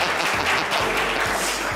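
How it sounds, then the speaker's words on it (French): A studio audience claps in a short, loud, dense burst of applause that stays steady for under two seconds. "Applaudissez pour vous, hein."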